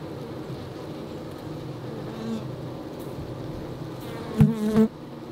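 Honey bees swarm around an opened beehive box full of brood, producing a dense, steady buzzing drone throughout, with a few louder close passes and taps near the end.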